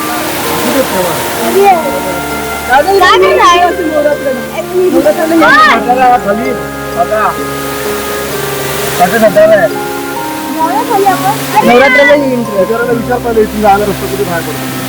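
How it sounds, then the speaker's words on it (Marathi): A waterfall at Chandika Devi temple in Dabhol, Konkan, heard as a loud, steady rushing wash of water running the whole time beneath people talking over it. "हा बघा इथे अजून एक धबधबा आहे"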